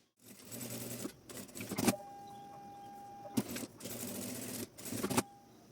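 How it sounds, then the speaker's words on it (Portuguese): A domestic sewing machine stitches a seam through the lining and main fabric of a card-holder wallet, several bursts of fast whirring separated by short pauses, close and steady. "vou passar também uma costura com o pé de máquina aqui"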